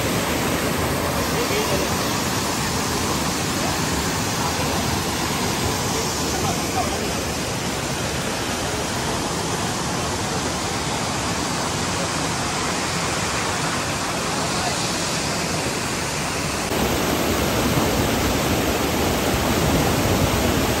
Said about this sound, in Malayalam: പാറമേലൊക്കെ തട്ടി ആ വെള്ളം ഇങ്ങനെ ചിന്നി ചിതറുന്നത് കാണുമ്പോൾ നല്ല അടിപൊളിയാണ്